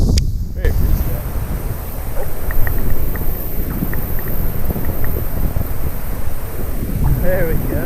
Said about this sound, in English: Very breezy out.